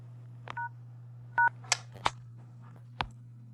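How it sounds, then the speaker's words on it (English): Phone keypad dialing a code: a few short dual-tone beeps with sharp clicks from key presses in between, spaced irregularly over a steady low hum. "go to your phone and dial this code"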